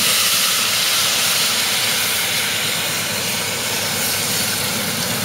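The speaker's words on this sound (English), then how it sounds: "And we now have to add in a mug of boiling water" Boiling water poured from a mug onto rice and pepperoni in a pan, a loud, continuous hissing rush of steam and splashing that holds steady throughout.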